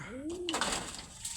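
A single soft pigeon coo rises and falls close by in Guiguinto, Bulacan, followed by faint rustling and background noise.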